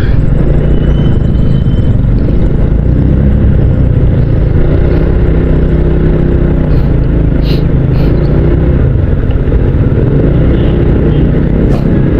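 Steady loud road traffic of cars and motorcycles rumbling close by on a ride toward Pagudpud, a continuous dense engine drone with occasional revving throughout.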